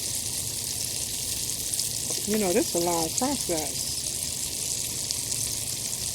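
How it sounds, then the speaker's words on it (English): Liver sizzles in a pan outdoors on a hot day, a steady, broad frying hiss throughout, while someone talks briefly over it. "It's frying pretty good, and I'm going to put another piece in it."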